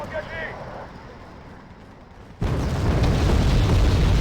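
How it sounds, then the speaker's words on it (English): Bombs strike artillery positions in the real-time strategy game Wargame: Red Dragon, a sudden loud heavy blast that cuts in midway and rolls on as a sustained rumble after a quieter stretch of battle ambience. "Bombs going out for the artillery."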